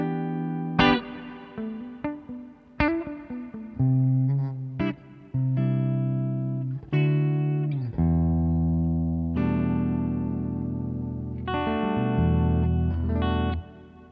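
An Aria Pro II PE-F80 electric guitar played clean with both pickups on, the neck in series and the bridge in parallel. Sustained chords and single notes ring out close and alone, with sharp attacks and long decays.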